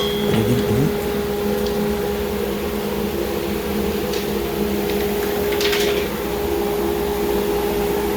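A shop dust collector runs with a loud, steady mechanical roar and hum, and a dropped wood chip is drawn in with a brief rattle partway through, with no talking.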